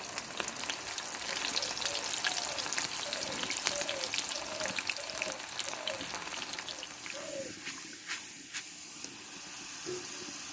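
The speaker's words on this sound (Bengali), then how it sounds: "বাকিগুলো একই পোষে আমি ভেজে নিব এভাবে" Chana dal fries in hot oil for crunchy dalmut, making a steady close sizzle and hiss with a few soft stirring sounds. The sizzle eases slightly near the end.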